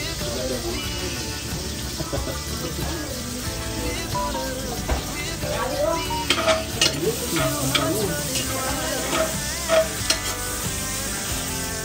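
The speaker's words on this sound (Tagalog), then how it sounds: "Ang maganda kasi pag igisa ang mga kalangga para yung aroma dumikit sa karne." Kalangga and meat are sautéed together in a pan, giving a continuous close sizzle with repeated scraping stirs that grow busier midway, while faint voices murmur in the background.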